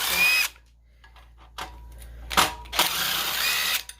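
A power drill backing screws out of a charger casing, heard as two close, loud whirring runs with a short burst between them and quiet pauses in between.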